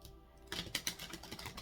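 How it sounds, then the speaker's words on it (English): Tarot cards being shuffled by hand, a rapid series of crisp riffling clicks and flutters that starts after a brief quiet moment, close but soft, with no talking. "I'm going to shuffle 3 times here."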